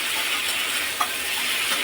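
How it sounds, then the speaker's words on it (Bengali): Spiced water hits a hot pan of frying vegetables, with a broad, steady hiss and sizzle and a faint clink near the middle. "সিদ্ধ হওয়ার জন্য আমি জলটা দিয়েছি।"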